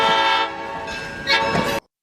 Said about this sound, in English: You said train is coming.